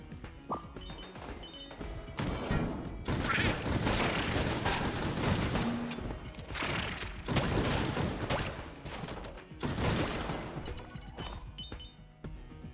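Rapid, relentless gunfire from a fast-firing gun in the video game Enter the Gungeon, a dense continuous stream of shots with crashes mixed in, loud and steady throughout with no talking.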